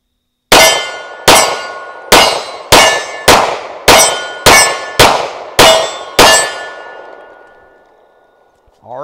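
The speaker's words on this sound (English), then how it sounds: "We're gonna do some mag dump on it." Rapid fire from a Tisas 1911 Stingray Carry pistol shooting defensive ammo in a mag dump: nine loud, sharp shots at a steady, quick pace, each ringing off with a long metallic decay, then fading to quiet.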